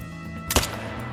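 A single sharp Glock gunshot from the hunting video game theHunt cracks once, short and moderately loud against a quiet background.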